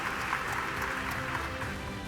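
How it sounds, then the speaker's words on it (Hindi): Applause fills a convention hall at a book launch event in Kashi, a dense, sustained clapping with a faint voice underneath. "सम्मेलन केंद्र तालियों की गड़गड़ाहट से गूंज उठा"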